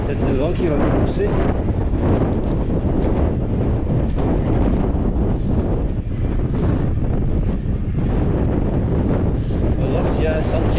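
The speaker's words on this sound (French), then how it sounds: "C'est le vent qui va me pousser." Strong, continuous wind buffets the microphone with loud rumbling gusts on a mountain ridge during an electric mountain bike ride, and a voice speaks faintly underneath.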